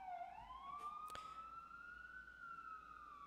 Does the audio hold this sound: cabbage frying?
no